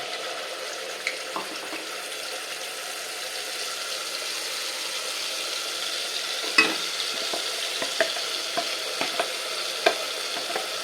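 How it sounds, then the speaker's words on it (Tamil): A ground paste for Udupi sambar fries in oil with a soft, steady sizzle. Occasional faint clicks and scrapes from stirring sit over it. "இந்த பேஸ்ட்டை இதில் போடணும்"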